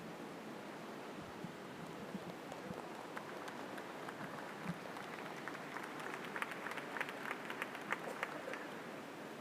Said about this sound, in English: I'm hearing some applause for Fruzsi